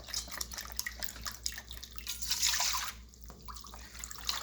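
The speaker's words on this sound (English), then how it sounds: "I'm adding in about 2 cups of beef broth." Beef broth poured into a pot of Hungarian goulash sauce, a soft, splashy liquid trickle that swells into a fuller pour before tapering off, close and fairly quiet, with no talking.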